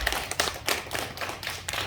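Group applause for a student at a church youth service, a burst of claps carrying through the short stretch at moderate level, with no voices.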